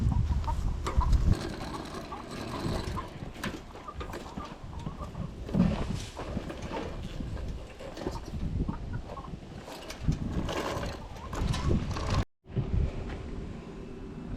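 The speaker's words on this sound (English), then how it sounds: "as you can see, the chickens did not waste any time getting in here" Chickens clucking steadily in a garden on freshly cut grass, a busy close-up stream of clucks and pecking rustles with no talk.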